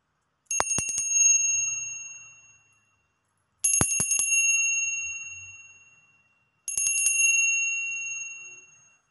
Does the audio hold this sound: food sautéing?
no